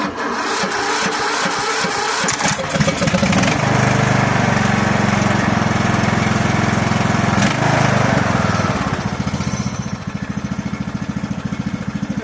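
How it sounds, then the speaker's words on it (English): A Briggs and Stratton Vanguard vertical-shaft lawn mower engine, more than 25 years old, cranks and catches, then runs at a loud, steady rumble before easing down, close by. "Not bad for a lawnmower"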